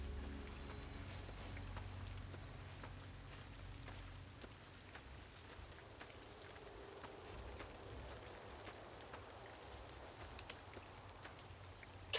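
Rainfall in Fallout: New Vegas makes a faint, constant pattering hiss over a low background drone, unbroken throughout.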